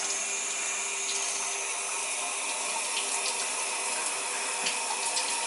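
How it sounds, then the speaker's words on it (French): Water runs steadily from the taps of a combined bidet toilet, a continuous broadband hiss and splash that holds at an even level throughout with no talking. "Et là, j'ai tourné les robinets. Regardez, et ça marche."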